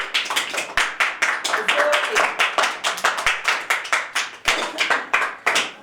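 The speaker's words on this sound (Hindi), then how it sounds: "इस बहुत बड़ी बरकत के लिए जोरदार तालियां बजाइए" Loud, rhythmic hand clapping from a church Sunday school congregation at a year-end gathering, sharp distinct claps repeating steadily and close by throughout.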